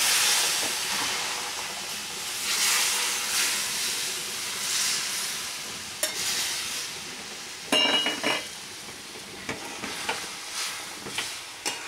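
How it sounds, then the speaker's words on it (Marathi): Continuous hissing sizzle with steam rising as hot water is poured slowly onto roasted semolina for upma, swelling and fading, followed by a few scraping clinks and stirring sounds near the end. "तर आपण हे गरम पाणी त्यात हळूहळू टाकूयात"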